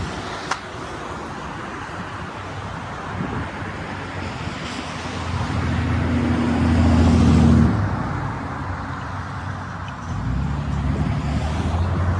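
A car driving along a road outdoors, steady broadband rumble with wind buffeting the microphone, swelling louder as it passes close around the middle and then easing back to a constant hum.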